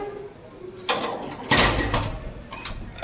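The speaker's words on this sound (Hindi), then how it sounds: "दरवाज़ा बंद करना ना, ये देखो बहुत टेढ़ी खीर है, बहुत ज़ोर से आवाज़ होती है इसकी" A stiff door is forced shut, giving a scraping push followed by a loud, heavy bang and some rattling afterward, heard close.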